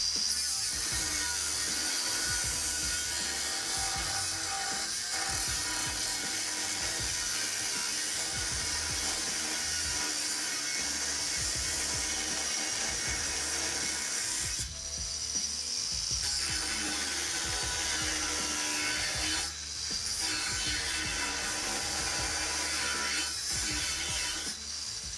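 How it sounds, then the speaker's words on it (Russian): A Procraft angle grinder (PW2150 or PW1100) cuts steadily with no load, its motor whine continuous and loud for the whole stretch, with brief dips where the cut eases. "Сейчас пилим без нагрузки, очень аккуратно, легко."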